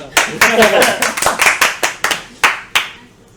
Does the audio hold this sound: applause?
yes